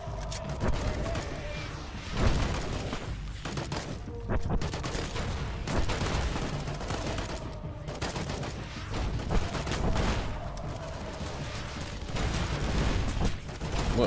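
Gunfire from Fallout: The Frontier mod crackles in repeated bursts and rapid volleys, with sharp shots scattered across a busy, rumbling battle backdrop at moderate loudness.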